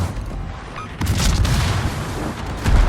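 Guns on the Pan-European cruiser Svea fire in a naval warfare video game, giving heavy booming salvos that rumble continuously, with a louder blast near the end.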